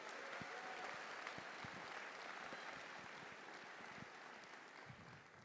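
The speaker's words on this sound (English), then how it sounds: "So can I please get a round of applause for all of these partners?" A main-stage conference crowd applauds partners, a faint, distant, steady wash of clapping with a few louder claps near the front, tapering slightly toward the end.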